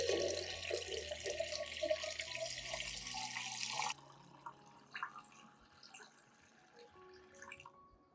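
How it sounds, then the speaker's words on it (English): Water runs steadily from a tap for a few seconds into a solution, diluting it with 1 liter of clean water, then stops, leaving soft drips and small handling clatter. "Add 1 liter of clean water to dilute the solution."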